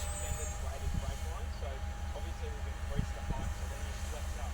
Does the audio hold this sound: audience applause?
no